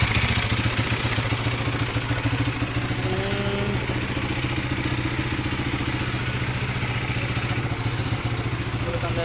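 A Bajaj Dominar 400 motorcycle idles with its exhaust removed, leaving only the catalytic connector, a loud, raw, continuous rumble with a fast, even beat that holds steady throughout.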